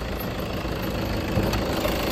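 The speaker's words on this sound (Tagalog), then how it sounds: "Ito yung ating makina mga boss." A Toyota Fortuner with the D4D diesel engine idles under an open hood, giving a steady, even low rumble with no revving and no one talking.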